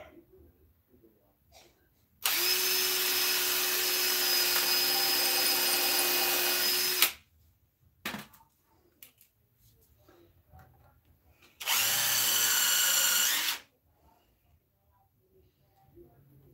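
Power drill driving screws into wood, two bursts of steady whine with a pitched motor tone, one long run of about five seconds and a shorter two-second run, close and loud with quiet handling noise between.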